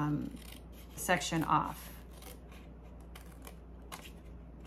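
Scissors cut through the flap of a small paper punch-art treat box in a few quick crisp snips, close and light, followed by faint rustling of the paper; a voice speaks briefly over the cutting.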